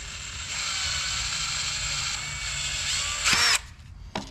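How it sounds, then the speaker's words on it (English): A larger drill bit is turned by hand to chamfer and deburr a small hole in a transmission part while a TransGo TF-2 shift kit is being installed, giving a close, scraping metallic grind followed by a couple of sharp clicks. "bigger drill bit by hand and just take the burr off."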